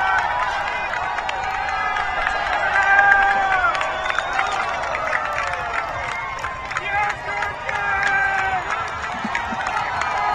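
A college men's soccer crowd cheers and shouts after a goal, a sustained roar with scattered yells and claps, while a commentator talks over it.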